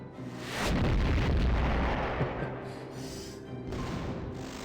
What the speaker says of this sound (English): I like the effect of the party cannon